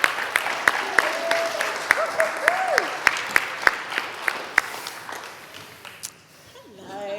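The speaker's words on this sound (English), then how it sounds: "give her a round of applause as she comes up" Scattered audience clapping as a guest named Becky walks up, sparse hand claps at a fairly quick rhythm that thin out and stop, with a voice speaking over it.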